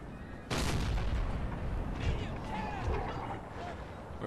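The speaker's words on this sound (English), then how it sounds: "we're firing downrange here" Artillery firing canister in Napoleon: Total War, a sudden heavy boom followed by a dense rumbling roar of battle noise, loud and sustained, with a voice faintly underneath.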